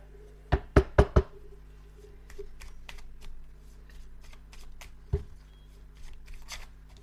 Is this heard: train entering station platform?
no